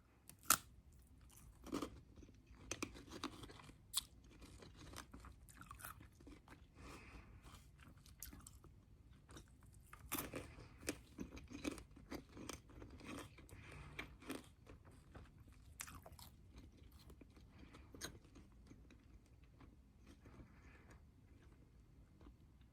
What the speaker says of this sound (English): I do like the crunch of the frozen wax